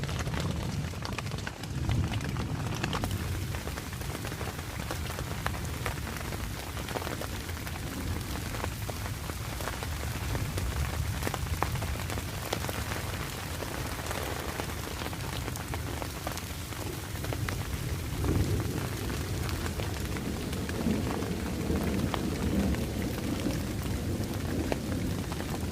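Steady rain falls heavily and continuously on a surface in the Wichita Mountains, a dense hiss with occasional low rumbles, no voices.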